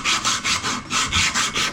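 Rhythmic back-and-forth rasping of sandpaper along the chamfer lines of a large wooden musky fishing lure, about eight even strokes in quick succession, close and clear.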